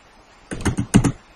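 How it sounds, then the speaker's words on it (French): Five quick, close keystrokes on a computer keyboard while writing a message in Outlook 2010, in two short bursts after a moment of quiet. "Ensuite, je tape mon message."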